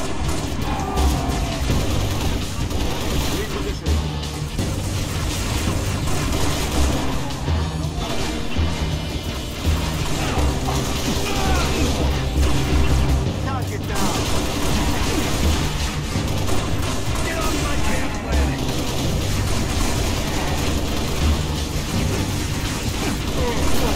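Explosions and gunfire in Halo Reach on PC roar continuously, a dense, loud wash of booms, crashes and rattling shots with no letup across the whole stretch.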